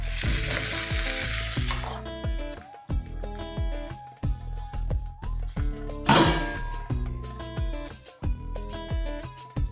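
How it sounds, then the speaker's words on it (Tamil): Mustard seeds, urad dal and cumin crackle and sizzle loudly in hot oil for tempering chutney, then a second burst of sizzling flares up over rhythmic background music. "சட்னி தாளிக்கிறதுக்கு எடுத்துருக்கேன்."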